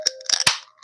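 A quick metallic click and pop followed by a short burst of hiss, like a soda can tab being pulled open up close.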